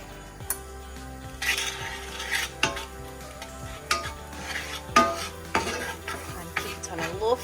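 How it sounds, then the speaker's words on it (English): Onions fry lightly in a drizzle of oil over a low flame for scrambled tofu, a soft sizzle beneath repeated scraping and stirring strokes and clinks of a utensil against the pan, close by. "fry that very lightly in a drizzle of oil."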